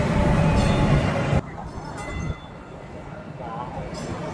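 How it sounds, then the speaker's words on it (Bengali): Two trains pass through a station in a loud, steady rumble that cuts off abruptly, then falls again to a fainter rolling hum with light clinks. "দুটো ট্রেন যাচ্ছে"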